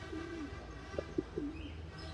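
Pigeons on a rooftop, the female birds just released, giving a few soft low coos and short throaty calls against a steady hum of outdoor background noise.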